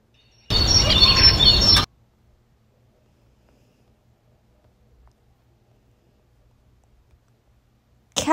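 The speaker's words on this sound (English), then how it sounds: "Bird." A short burst of bright chirping and clicking bird calls, about a second long, followed by a long stretch of silence.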